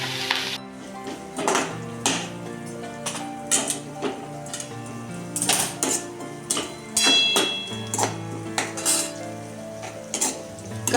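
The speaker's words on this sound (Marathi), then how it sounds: "कांदा भाजत आहे।" Chopped onion frying in a pan for dahi tadka, a soft sizzle under repeated clinks and scrapes of a spoon stirring against the metal pan, close and busy throughout.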